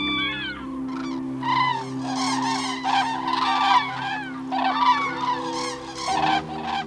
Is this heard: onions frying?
no